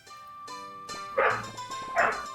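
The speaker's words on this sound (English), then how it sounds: "That is one loud-ass dog." Loud dog barking in two sharp, close bursts after a few tonal notes, with quieter gaps between them.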